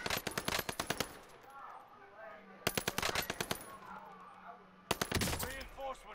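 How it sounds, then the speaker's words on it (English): Rapid bursts of automatic gunfire in a video game come in three separate volleys, with quieter game sounds and voices between the bursts. "I am under fire."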